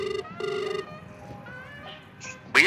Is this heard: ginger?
no